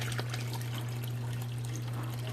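Water trickles and splashes steadily into a foot detox basin, a soft continuous pour under a constant low electrical hum, with no one speaking.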